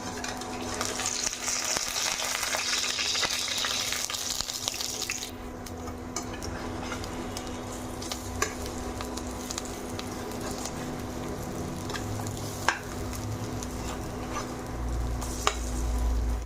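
Pumpkin flower fritters fry in a pan with a steady, close sizzle, the hiss easing partway through as the fritters are turned, with a few scraping clicks; no talking.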